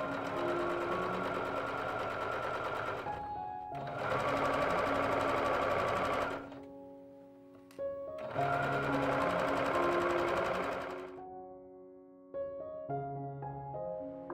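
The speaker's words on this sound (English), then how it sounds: "I pinned the white and teal fabric right sides together and sewed along this straight edge." A sewing machine stitches a straight seam joining white and teal fabric for a heart pillow stripe, in three close, steady runs of rapid humming separated by short pauses.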